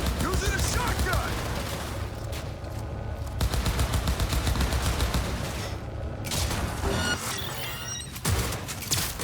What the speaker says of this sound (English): Using a shotgun!